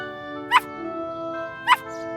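Two short, sharp yips from a small cartoon dog, spaced about a second apart, over a steady background hum of music.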